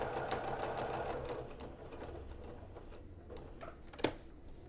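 A sewing machine stitches a quilted leaf table topper in a steady, close mechanical whir. The running slows and fades toward the end, closing on a single sharp click.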